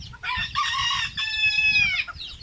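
Chickens cluck and call nearby in a few bursts beside a green net enclosure, with a harsh, drawn-out rooster-like cry among them.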